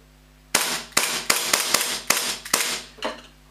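Airsoft gas blowback pistol fired several times in quick succession to clear gas discharge, giving seven sharp cracks at an uneven rhythm, loud and close with no talking.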